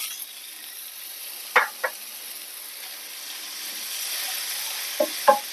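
Chopped tomatoes go into a sizzling pan of palak paneer. A soft continuous frying hiss runs throughout, punctuated by two pairs of sharp clacks of a utensil against the pan.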